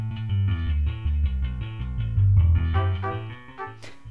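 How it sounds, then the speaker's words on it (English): A big band trombone section plays sustained, stepping brass chords layered over the rest of the ensemble, loud and close, with a short sharp accent just before it stops. "here's the trombone section on top of that"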